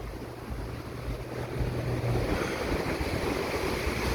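Strong wind buffets the microphone beside the ocean at Hilo Bay, Hawaii, in the evening, a steady low roar that grows a little louder partway through, with surf washing underneath and no talk.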